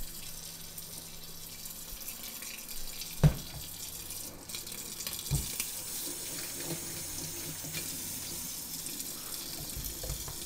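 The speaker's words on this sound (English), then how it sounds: "Let me rinse my hands off." Tap water runs into a sink as hands are rinsed, a steady hissing splash held for about ten seconds, with a couple of brief knocks partway through and no talking.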